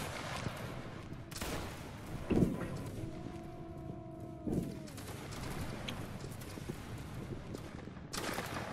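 Musket lines fire volleys in a Waterloo battle game: scattered crackling gunfire, with two sharper cracks standing out, plus a sustained horn-like tone in the middle, all somewhat distant and fairly quiet.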